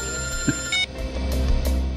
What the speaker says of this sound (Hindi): तारिका जी का फोन?